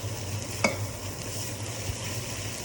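Onions being stirred into a mutton and potato mixture for chops, a soft continuous scraping and sizzle with one brief utensil knock, close and steady without talk.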